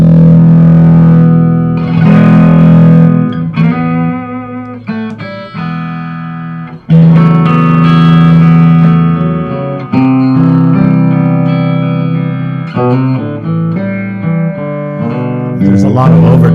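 A Stratocaster electric guitar played on its bridge pickup through a Silverface Princeton Reverb amp rings out with sustained notes and chords full of overtones and reverb, clear and close, with pauses between phrases.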